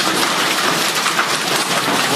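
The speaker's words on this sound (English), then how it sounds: "he's getting hit by hail" Hail pours down outdoors onto someone running through it. A dense, loud, steady hiss of pelting ice fills the whole stretch, with no talking.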